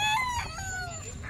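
Chickens being evacuated near the flooded second bridge at Lingayaw crow and cluck close by in one short, bright burst over a low background rumble.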